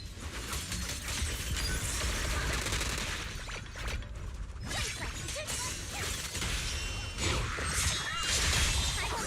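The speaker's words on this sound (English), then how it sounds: "Oh, missile." Explosive missile strikes and combat effects in Zenless Zone Zero, a dense, loud barrage of crashes, whooshes and mechanical clatter running continuously with bursts layered over game music.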